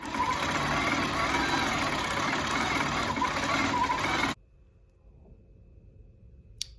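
A quilting machine stitches through a quilt with a fast, steady mechanical chatter for about four seconds, then stops dead, leaving near silence with one small click.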